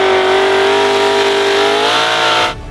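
A modified 1200HP truck engine revs loud and steady through a Fat Pipes exhaust, holding a strong droning note for a couple of seconds before cutting off sharply.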